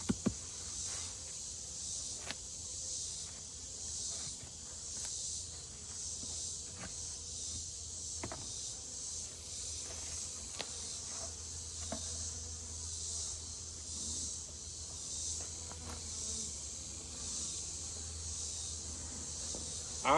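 Honeybees drone in a steady, faint buzz around an opened beehive brood chamber, a continuous hum broken by a few soft clicks and taps, with no talk.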